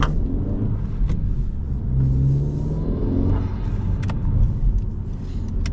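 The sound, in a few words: small turbo car engine spooling while driving, Honda Civic Si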